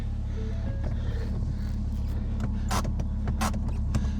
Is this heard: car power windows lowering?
yes